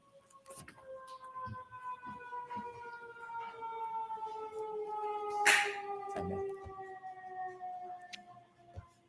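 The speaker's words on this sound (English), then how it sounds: "I was just waiting for the siren" A wailing siren rises and falls, its tones sweeping across the clip at moderate distance, with faint background noise and a brief sharp burst midway.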